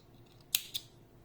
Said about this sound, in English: Now we can cut the yarn.